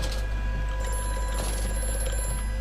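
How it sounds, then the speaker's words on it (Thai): A telephone rings inside the video game Amnesia: A Machine for Pigs, a steady electronic ringing tone over a constant low hum, fairly loud and without speech. "กูจะรับโทรศัพท์"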